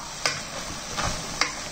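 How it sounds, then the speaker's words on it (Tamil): Potato and masala stirred and sautéed in a pan for horse gram kuzhambu, with three sharp spoon scrapes spaced out over a steady low sizzle, close and fairly quiet. "இதை நல்லா மிக்ஸ் பண்ணிவிட்டு கொஞ்சம் வதக்க விடலாம்."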